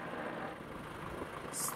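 A YuMZ tractor engine drives off through a snowy forest, a steady close diesel rumble and drone filling the short stretch without pause.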